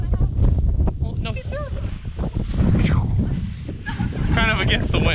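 Wind gusting across an open rye field on a farm, a steady rush buffeting the microphone while voices talk over it throughout.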